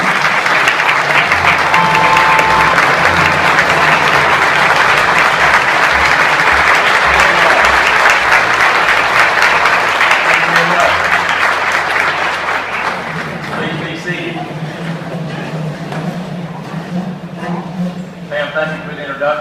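A large audience applauds to welcome Governor Nathan Deal at a VIP Day event, producing loud, sustained clapping that stays dense before thinning and fading toward the end.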